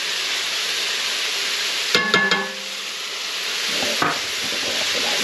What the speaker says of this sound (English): we're gonna stir that in just for about 30 seconds